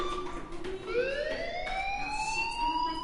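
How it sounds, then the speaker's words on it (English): A school fire alarm in the game Life is Strange wails continuously, its rising siren tones sweeping upward and repeating at steady loudness throughout. "Hey, do you hear that fire alarm? That means you should be outside."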